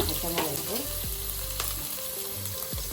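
Ginger, garlic and green chili fry in hot oil in a pan, a bright steady sizzle broken by a few stirring scrapes and clatters, close and without talk.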